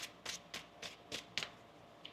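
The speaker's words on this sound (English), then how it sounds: "One more shuffle here." Several quick riffling bursts of shuffled tarot cards, about six crisp papery flutters in a steady rhythm, close and fairly soft, followed by a small final tap.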